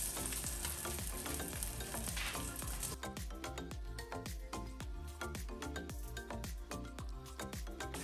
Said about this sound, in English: Here we are going to fry the prawn until all of the prawn turn to red completely.